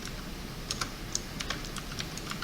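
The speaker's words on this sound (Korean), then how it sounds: "그리고 엔터 버튼" Keys clacking on a computer keyboard, including a press of the Enter key, a quick series of light taps over steady room hiss, with no talking.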